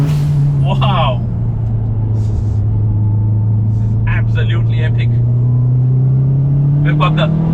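A Subaru WRX STi's engine pulls flat out on a race track, a loud, steady low drone with slowly rising pitch throughout, while an excited voice talks over it.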